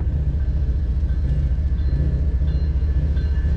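BNSF freight train 3251 starting to move again along the tracks, a loud, steady low rumble with a rhythmic pulsing undertone, heard close up with no talking.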